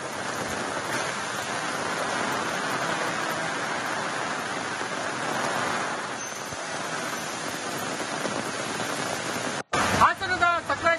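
Heavy, continuous monsoon rain at Shiradi Ghat near Sakleshpur in Hassan district makes a steady, dense hiss. Near the end the sound cuts out abruptly and a voice begins speaking.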